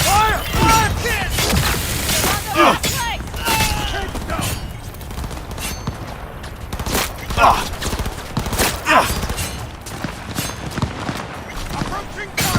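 Rapid gunfire and impacts crackle through a firefight in the video game Cyberpunk 2077, loud and dense at first, then thinning to scattered shots, with shouted in-game voices over the top.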